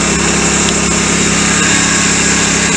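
A small kayak motor runs at its lowest setting, giving off a steady, close, continuous whine with a constant drone and no change in pace.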